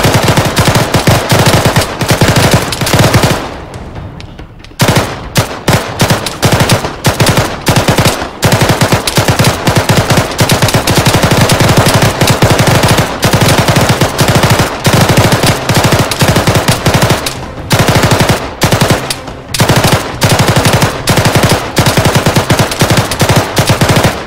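Sustained machine gun fire in ArmA 3, loud and close, in long rattling bursts that continue almost without a break across the stretch, with only a couple of brief pauses between volleys.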